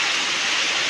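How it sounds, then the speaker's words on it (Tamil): Steady rain pours down in a hot summer downpour, a dense, even hiss filling the whole moment without pause or voices. "அருமையான மழை."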